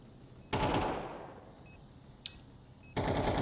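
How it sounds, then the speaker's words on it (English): Mac-10 submachine gun sprays in Counter-Strike on the Anubis map during an ESL Impact esports match: two sharp bursts of rapid automatic fire with a short crack between them, heard alone without commentary. "PiggyKiKi, some great sprays there with Mac 10."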